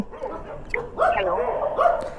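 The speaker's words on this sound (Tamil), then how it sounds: "இந்த நாய்ங்க வேறு ஒன்று என்னை பார்த்தா குலைக்குது" Dogs bark and yip close by, several overlapping barks in quick succession with a person speaking over them.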